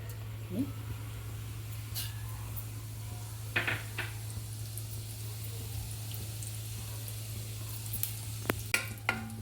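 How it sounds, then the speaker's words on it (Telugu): Cumin seeds sizzling in hot oil in a home kitchen pan, a soft crackling fry under a low steady hum, with a few sharp clinks and taps of a utensil and no talking. "ఆయిల్ వేడైనాక జీలకర్ర వేసుకో."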